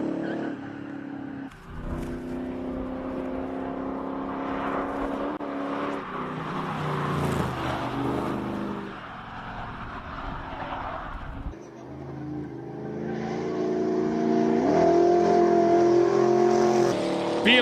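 A rally-spec classic car runs at a Cape Town hill climb, its engine holding a steady, loud drone with harmonic tones, briefly dipping near the middle before rising louder again toward the end; no speech.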